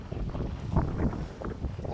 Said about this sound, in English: the weather, it is really windy